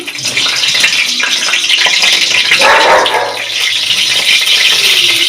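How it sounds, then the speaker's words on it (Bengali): Dried red chillies dropped into hot oil for tempering in a Bengali bamboo shoot dish, giving a loud, steady sizzle and crackle that swells briefly midway, with faint kitchen clatter underneath. "তেল গরম হয়ে গেছে, এখানে আমি দুটো শুকনো লঙ্কা প্রথমে দিয়ে দেবো ফোড়নের জন্য।"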